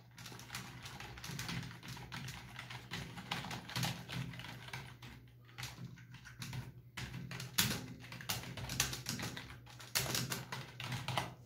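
Fingers type on a POWERGATE KM A7 lit USB gaming keyboard, giving a steady stream of close, fast key clicks with occasional louder presses. The typing is quiet overall, with no talking.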